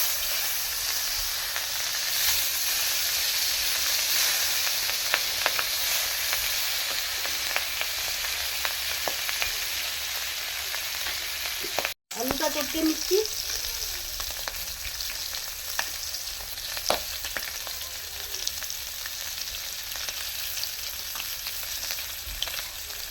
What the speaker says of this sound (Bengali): মাছগুলো ভাজতে দিয়ে দিচ্ছি